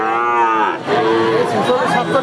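A six- to seven-month-old heifer calf moos loudly and close by. Two drawn-out tonal calls run back to back, with no talk over them.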